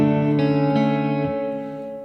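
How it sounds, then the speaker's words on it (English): Guitar tone through a small practice amp with a spring reverb setting: sustained harmonic chord ringing alone, with a few soft re-strikes decaying into a reverberant tail over two seconds. "spring reverb."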